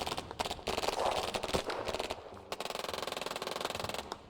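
Rapid automatic gunfire in the video game Irony Curtain: dense bursts of rattling shots, then a long steady stream of evenly spaced rounds, fairly quiet in the mix, with no talking.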